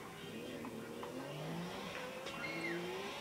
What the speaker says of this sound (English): I'm driving the van.